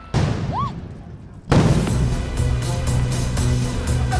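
Firework rockets bursting during a street protest over labour and pension reforms, with a sharp whistling streak early, then a loud sudden blast followed by continuous crowd noise and crackling in the city street.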